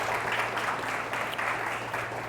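An audience at a speakers conference claps together in a sustained, dense round of applause, close and steady throughout, with no talk.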